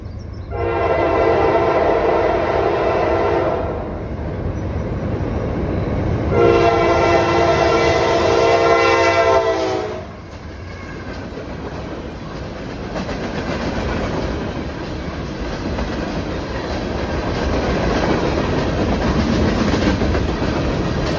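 A loud train horn sounds in two long blasts, followed by the steady rumble and rolling clatter of a passing freight train on the Norfolk Southern Lake Erie District in Westfield, New York.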